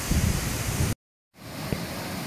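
Tall waterfall in the Fossgil gorge, a dense, loud, continuous roar of rushing water, briefly cut to silence and then resuming slightly softer.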